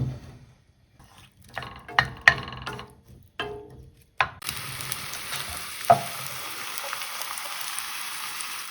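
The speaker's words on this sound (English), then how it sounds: "we're going to fry the onion on a low heat for a minute." Onions frying in olive oil in a shallow pan over low heat: scattered stirring clatters first, then a steady broadband sizzle takes over and holds, close and fairly loud, with one sharp scrape partway through.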